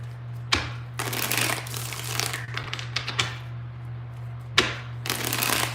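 Tarot cards being shuffled by hand in a few separate bursts of quick riffling and crinkling rustles, close and fairly quiet over a steady low hum, with no voices during the shuffling.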